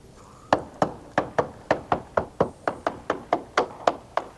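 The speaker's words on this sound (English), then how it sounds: "Listening for the sound of the hammer." A hammer taps a 2001 Sea Ray 460 Sundancer's hull during a marine survey: about fourteen sharp, evenly spaced knocks ring out close and clear, each with a short hollow resonance.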